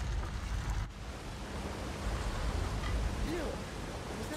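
A waterfall rushes in Elder Scrolls Online's Grahtwood region as a steady, broad roar of falling water that holds loud and even throughout, with faint game sounds over it.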